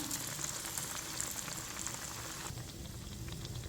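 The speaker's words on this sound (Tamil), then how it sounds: "இது எண்ணெயில் பிரிஞ்சு போகலை பாருங்கள் இப்போ இது நல்லா வெந்து வரட்டும்" Cabbage vada patties deep-frying in hot oil give a steady, dense bubbling sizzle, close and continuous, with no talking.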